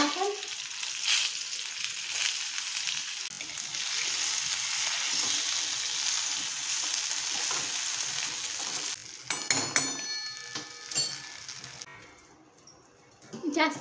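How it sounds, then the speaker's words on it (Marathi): Besan and paneer stuffed chillies shallow fry in a pan over low heat, giving a steady close sizzle that breaks into clatter and handling noises near the end. "एकदम मंद आचेवरती आपल्याला आलटून पलटून छान अशा मिरच्या आपल्याला शॅलो फ्राय करून घ्यायच्या आहेत"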